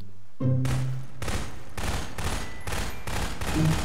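Rapid automatic gunfire in the video game Garry's Mod Prop Hunt comes as loud repeated bursts, several volleys in a row with brief gaps, close and dominant without talk.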